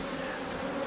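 A close, dense buzz of many honeybees swarming around the frames of an open beehive, steady and continuous with no talk.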